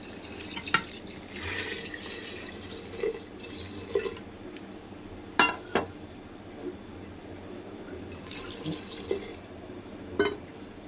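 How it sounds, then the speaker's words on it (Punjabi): Water poured into bottle gourd dal in a pot, a faint trickling and dripping with a few scattered clinks over a quiet background, no talking. "ਪਾਣੀ ਪਾਵਾਂਗੇ"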